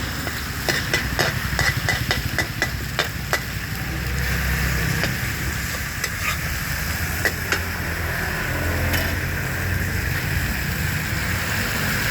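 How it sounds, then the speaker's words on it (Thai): Pad thai with egg is stir-fried over a charcoal stove at a Bangkok street stall, with loud, steady sizzling and a quick run of metallic spatula scrapes and clanks at the start. "แล้วก็ใส่ไข่ไปเป็นผัดผัดไทยโบราณเตาถ่านนะครับ"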